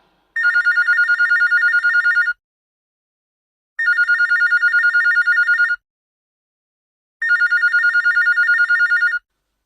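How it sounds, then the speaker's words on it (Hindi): A telephone rings in three loud, evenly spaced bursts of trilling electronic tone with silent gaps between them, and no voices are heard. "तो कल्लू को लगा दे सहारनपुर फोन"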